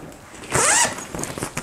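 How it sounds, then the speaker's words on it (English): The zipper on an Ortur laser enclosure 2.0 is pulled open in one quick, loud rasping sweep, followed by faint handling rustles nearby. "The zippers do just go along the sides."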